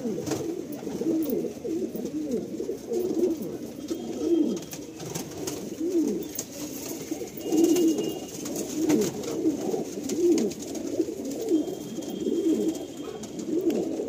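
Madrasi pigeons, including a green pair, coo in a loft in Howrah Bankra, with repeated soft throaty calls overlapping in a steady rhythm close by and no voices.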